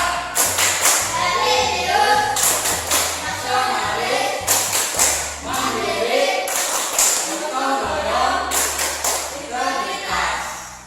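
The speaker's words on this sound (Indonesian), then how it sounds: "Kita tepuk PPK." Schoolchildren in a fifth-grade classroom perform a patterned group clapping chant, sharp claps in rhythmic bursts alongside chanted voices and a steady low thumping beat.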